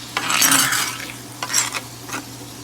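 Onions cooking in a pan with Worcestershire sauce, browning sauce and tomato paste: a close, soft sizzle broken by a few scraping stirs of a utensil against the pan, with no talking.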